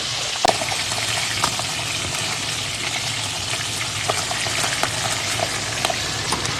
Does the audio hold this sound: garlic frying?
yes